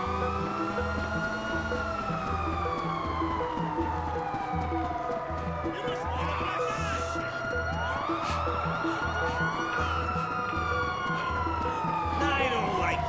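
A wailing emergency siren from GTA 5 sweeps up and down repeatedly over a steady engine rumble, loud and continuous for the whole stretch, with other rising wails overlapping midway.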